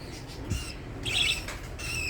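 Tame baby budgerigars squawk and chatter in short, harsh bursts, a few calls rising over a steady background hum, fairly close and moderately loud.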